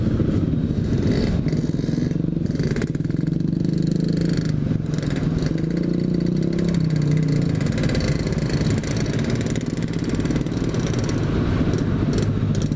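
Dense, continuous rumble of motorcycle and car engines idling and revving close by in a slow traffic jam in Bandung, Indonesia, loud and steady throughout, with no horns.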